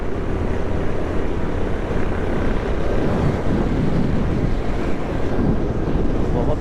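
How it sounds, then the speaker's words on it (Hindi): Strong wind blows along a city street on Jamshed Road, a steady roaring rush that buffets the microphone continuously and loudly, with no pauses or gusts dropping away. "बहुत तेज हवा है।"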